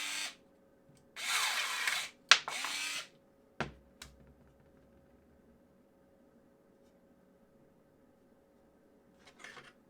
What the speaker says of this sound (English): Here I'm cutting a 14mm thick branch and it does it reasonably fast